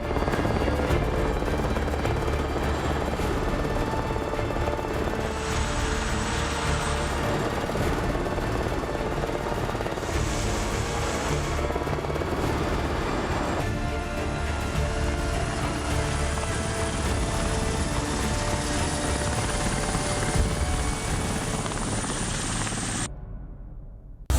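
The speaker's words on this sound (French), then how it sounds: "Alors Matt, aux commandes de son hélicoptère, se lance pour aller les secourir." A military helicopter flies during a rescue mission in a combat zone, its rotor roar loud, dense and constant throughout before cutting off abruptly at the very end.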